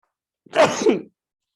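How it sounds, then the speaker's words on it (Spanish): A single sharp sneeze from a woman, sudden and close, about half a second long, surrounded by silence. "Perdón, voy a estornudar. Ahora sí estornudé."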